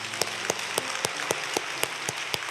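Church congregation clapping in welcome during a Sunday service, a soft steady wash of applause with a few sharper, louder individual claps standing out at fairly regular intervals.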